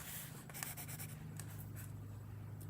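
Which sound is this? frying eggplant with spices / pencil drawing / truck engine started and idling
pencil drawing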